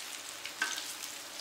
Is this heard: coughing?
no